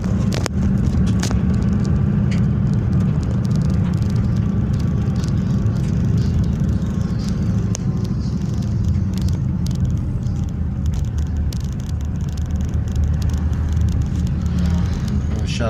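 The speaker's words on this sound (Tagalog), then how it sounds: "Medyo mabagal tong motor." A slow motorcycle rides on a rural road in Calatagan, Batangas, heading toward Balayan. It gives a steady, close engine drone with wind and road rumble throughout, and a voice is partly heard over it.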